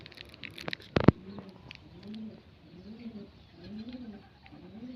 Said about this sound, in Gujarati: કબૂતર બોલે બિચારા કબૂતર